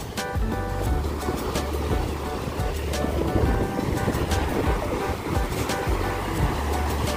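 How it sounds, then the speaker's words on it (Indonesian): Big ocean waves at a beach give a loud, continuous crashing wash of surf with wind buffeting the microphone and periodic surges as waves break. "Ombaknya gede banget."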